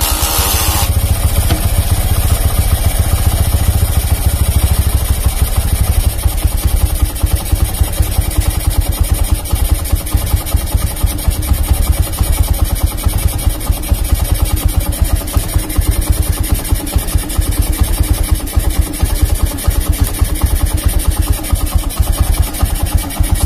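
A Honda Megapro motorcycle with a lighting fault idles at a steady, loud, close putter for the whole stretch, with a rapid, even engine pulse and no voices.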